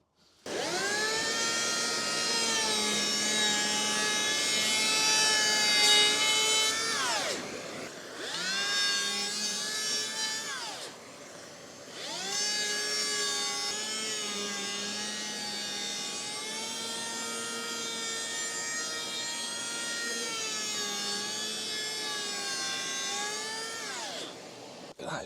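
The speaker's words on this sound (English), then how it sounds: "I can plane that in now." Electric power plane working a wooden window lining, a loud whining motor with strong harmonics running in long passes of several seconds, separated by brief pauses, close by with no talk.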